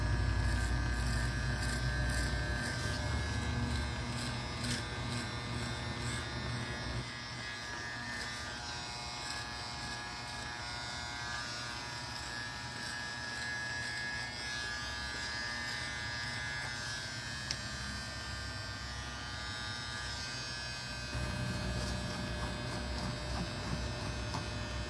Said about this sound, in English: So I'm going to go in and lightly trim this up.